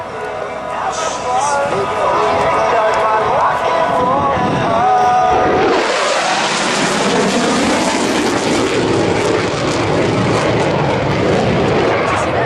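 An F/A-18C Hornet fighter jet passes at an air show, its engine roar swelling into a loud, broad rushing blast that stays intense through the pass, while an announcer's amplified voice speaks over it early on.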